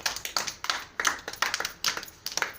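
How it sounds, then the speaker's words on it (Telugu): A group of children claps for a classmate during a storytelling session about the fox and the crane, with several uneven bursts of clapping in quick succession. "ఆడికి కూడా క్లాప్స్ కొట్టండి"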